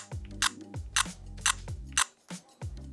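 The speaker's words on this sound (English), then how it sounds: "That clicking noise just did not feel professional." A Nikon ZR camera makes a series of sharp mechanical clicks, five or six crisp snaps spaced roughly half a second apart, close and clear with nothing else heard.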